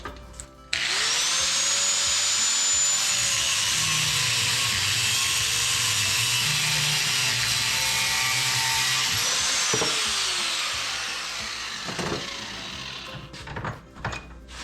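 A metal piece for a hitch mount carrier is cut in half while clamped in a vise, giving a steady loud grinding whine for about ten seconds before it tapers off into clanks and handling noise.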